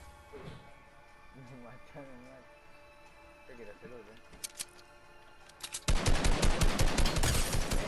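Gunfire in a Star Wars video game: a few scattered shots under excited Spanish talk, then a loud, rapid automatic burst that continues to the end.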